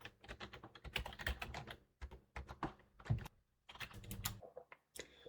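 Keyboard typing while criteria are entered into an Excel spreadsheet, quick bursts of clicky keystrokes close to the mic with short pauses between runs, no talking.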